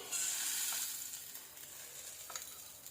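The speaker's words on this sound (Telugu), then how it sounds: "కాస్త ఇది కొంచెం హీట్ అయిన తర్వాత ఆయిల్ వేసుకుందాం ఆయిల్ వేస్తున్నానండి" Cooking oil poured into a heated kadai for masala pasta gives a bright, close hiss that is strongest at first and then fades to a softer, steady sizzle, with a few faint clinks.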